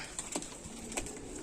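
Saharanpuri Naptha pigeons give soft, short coos and wing or foot flutters close by, a few quick bursts over a low background hum, with no voices.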